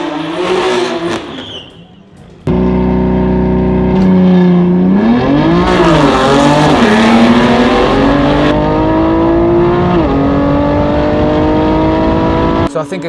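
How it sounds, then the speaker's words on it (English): Drag strip run at Santa Pod between a Stage 3 BMW F82 M4 of about 700 hp and a supercharged BMW E90, engines revving loud and close, rising through several gear shifts as the cars launch and accelerate, with a voice talking briefly over the start. "it's time to see what's better. Supercharged E90 or Stage 3 F82?"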